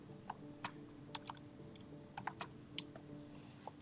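Typing a name on a computer keyboard while setting up a PSG hardware system: sparse, light key clicks at an irregular pace over a low steady hum.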